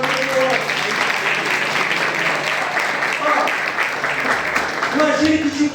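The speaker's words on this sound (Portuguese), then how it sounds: "Vamos aplaudir o Senhor." An audience at a church service claps in sustained, dense applause for several seconds. It is fairly loud and even, with no break.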